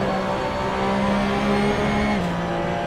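A Porsche Cup race car in Assetto Corsa drones along at steady high revs, its engine note holding firm before a gear change shifts the pitch slightly, with faint tire noise underneath.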